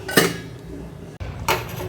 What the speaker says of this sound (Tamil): மூடி போட்டு கொஞ்ச நேரம் கொதிக்க விடலாம்